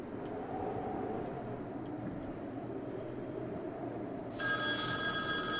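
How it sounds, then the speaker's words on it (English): Telephone ringing in the Boogie Man horror video game, a bright electronic ring bursting in near the end over a steady low ambient drone, loud and alone without talk. "Yo, who is calling me at this hour? It's 1 a.m. in this game."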